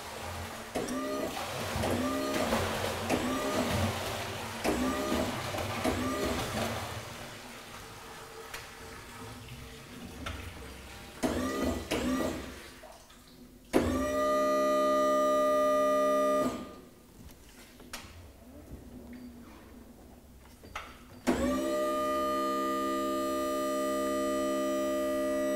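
An electric heavy-duty drum tipper with power rotation tips a drum. Clattering and knocking give way to two sustained, loud, steady electric motor hums, each running for several seconds and separated by a short quieter gap.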